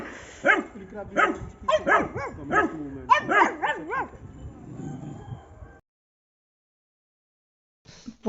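A pug named Tuttu gives a run of short, yelping barks in quick succession for several seconds, close and fairly loud, then falls silent before a brief sound at the end.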